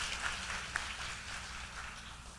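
An audience claps for dancers after an Indian classical dance recital, a soft, steady wash of applause heard from a distance for a couple of seconds.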